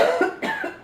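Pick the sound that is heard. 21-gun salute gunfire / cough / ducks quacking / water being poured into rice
cough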